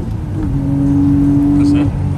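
A Nissan R32 GTR cruising at night, its steady engine drone and road rumble filling the cabin, with a sustained tone holding through the middle.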